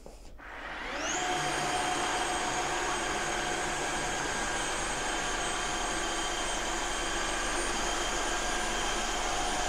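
A Tineco S6 Stretch cordless wet-dry vacuum cleaner spins up and runs at steady high suction over spilled olive oil, a loud continuous whine and roar that rises in the first second and then holds.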